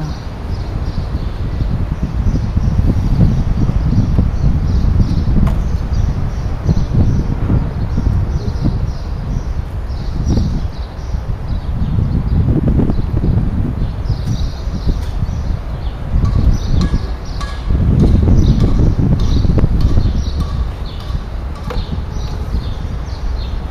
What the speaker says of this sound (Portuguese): Olha o que está de vento.